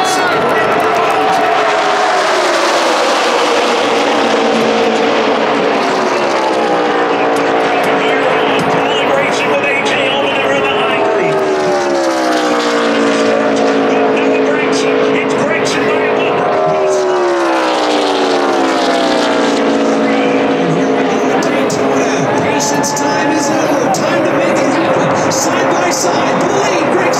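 Loud, continuous roar of stock cars racing in the Xfinity race at Daytona, engine tones rising and falling in waves as the pack runs side by side, with crowd noise beneath.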